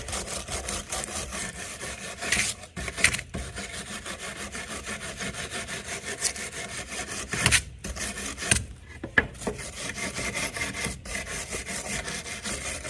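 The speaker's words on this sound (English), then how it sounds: "So I'll just take the wire brush for this one." A wire brush scrubs rust and grime off a garden tool, continuous rapid rasping strokes, close and steady, with a few brief pauses and shifts in rhythm.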